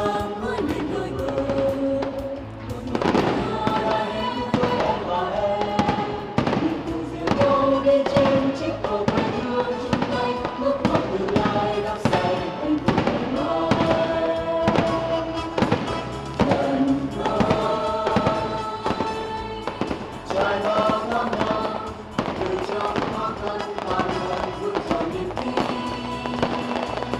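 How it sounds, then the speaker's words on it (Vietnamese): A high-altitude art fireworks show celebrating the 20th anniversary of Can Tho city fills the air with dense, continuous bursts and crackles, steady and loud from start to finish, with tonal sounds running alongside. "chương trình pháo hoa tầm cao"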